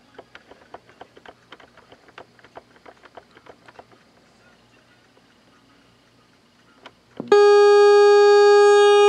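Soft scattered ticks and taps from a vintage GE alarm clock give way to a loud, sustained electronic alarm tone that blares continuously until the end.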